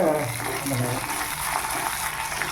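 Black pepper and about ten dried red chillies fry in a pan for a curry-leaf curry, making a soft continuous sizzle with light stirring noise, close by, with no voice over it.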